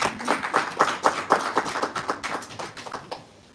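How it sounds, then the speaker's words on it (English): An audience gives a round of applause for a woman being welcomed on stage at an event, a brisk rhythmic clapping with distinct claps that thins out and fades away. "Let's give her a round of applause."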